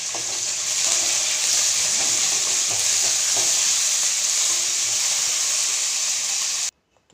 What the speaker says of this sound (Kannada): ಸ್ವಲ್ಪ ಕೊತ್ತಂಬರಿ ಸೊಪ್ಪು, ಸ್ವಲ್ಪ ಪುದೀನ ಹಾಕಿ ಫ್ರೈ ಮಾಡ್ತೀವಿ.